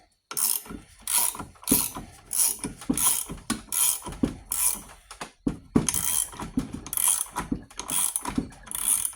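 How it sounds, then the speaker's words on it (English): Ratcheting wrench tightening a tool on an old pump, with bursts of rapid clicking strokes repeated about a dozen times, close and fairly quiet with brief pauses between pulls. "I got a ratcheting wrench there to tighten it down"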